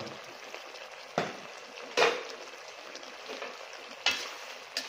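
A spoon stirs adobong isaw (pork intestine) with ginger, chili, sugar and soy sauce in a sizzling pan, giving a steady close fry hiss broken by a few louder scraping strokes.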